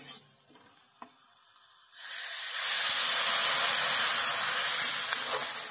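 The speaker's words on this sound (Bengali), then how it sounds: "হলুদ গুঁড়োটা জাস্ট মিশিয়ে নিয়েই এর মধ্যে ঢেলে দেবো জল।" Water is poured into a pan of frying onions stirred with turmeric powder: a few quiet clinks, then a sudden loud hiss and steamy sizzle that swells and holds steady, close up, with no talking.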